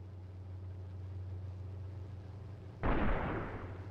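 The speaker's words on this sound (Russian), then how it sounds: "Бросаю гранату!" In a shooter video game, a grenade goes off as a sudden loud blast near the end. It cuts through a low steady rumble and then decays into a noisy tail.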